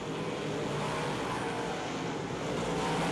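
Dirt track modified race cars at the DIRTcar Nationals running laps around the cushion, a steady blended engine roar heard from a distance across the track, without distinct passes or voices.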